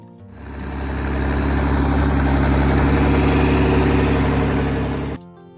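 A John Deere 4020 tractor engine idles loudly and close by, a steady deep rumble that swells in and holds for several seconds before cutting off sharply.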